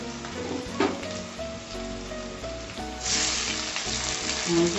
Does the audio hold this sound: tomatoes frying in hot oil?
yes